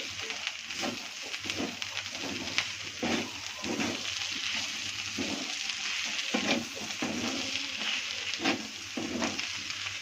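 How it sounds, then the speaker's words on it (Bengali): Shredded cabbage with ghee and garam masala being stirred in a hot pan, with repeated scraping and tossing strokes in a steady rhythm over a faint, continuous sizzle, close and fairly quiet. "এখন ভালো করে মিক্স করবো দুটোকে।"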